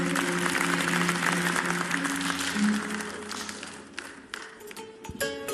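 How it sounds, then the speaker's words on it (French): Audience applause for a slam poetry performer at a live event, dense and sustained clapping from a crowd that gradually thins toward the end. "nous vous demandons encore de l'applaudir très fort"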